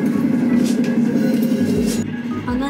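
Steady low rumble and rushing noise inside a high-speed train running between Florence and Rome, constant and fairly loud, with a faint clatter now and then.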